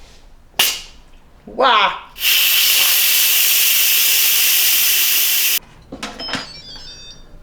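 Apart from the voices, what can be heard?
Instant Pot pressure cooker releasing steam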